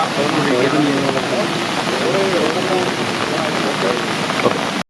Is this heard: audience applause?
no